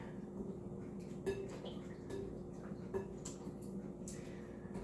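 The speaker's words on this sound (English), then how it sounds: "And I stir this up to make it milky." A spoon stirs almond and vanilla extracts into a smoothie bowl mix, giving faint scraping and a few soft clinks against the bowl over a low, steady room hum.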